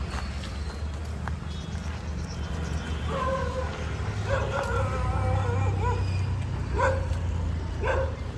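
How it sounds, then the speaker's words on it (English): A dog barks and yips in a few short bursts at mid-distance outside an abandoned mall, over a constant background rumble and faint footsteps. "Fucking hate dogs."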